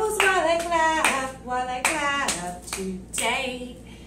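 Hands clap in a parent-and-child gym class at home, the claps landing in short bursts with a sung voice over them.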